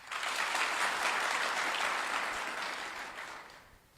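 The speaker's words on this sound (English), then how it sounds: "Let us give her another applause." Sustained applause from an audience at a formal luncheon and debrief ceremony, steady and full for several seconds before gradually fading.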